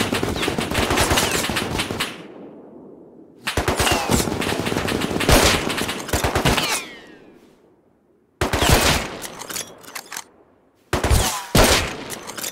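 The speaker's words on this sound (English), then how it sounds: "Oh, who's shooting me now?" Gunfire aimed at the player in the game Rust, loud and close: long rattling automatic bursts separated by short silences, four separate volleys in all, some ending with fading echoes.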